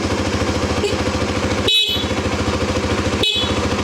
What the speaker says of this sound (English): Horn is a bit dodgy, but we'll come back to that.